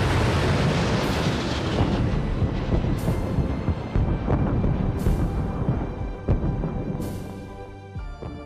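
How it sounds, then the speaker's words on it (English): Fireworks bursting at a ribbon cutting in the SimCity video game, a dense continuous barrage of booms and crackles with repeated sharp bursts roughly every two seconds, loud and unbroken. "We're gonna cut the ribbon and watch the fireworks go"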